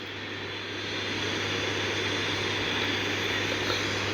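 A video-game aircraft engine runs during takeoff, a steady, loud propeller-like drone with a low hum that builds slightly and holds for several seconds, with no talking.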